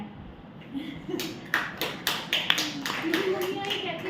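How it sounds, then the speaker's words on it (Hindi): A roomful of girls claps in a sustained burst of applause, building to a steady patter while someone speaks over it. "और उनके लिए भी तालियां बजा दो जो उठते नहीं है।"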